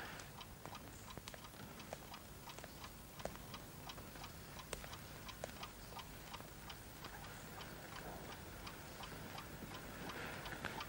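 A chess clock ticking in a quiet match hall, a faint, regular stream of dry ticks at an even pace, sounding alone with no talk.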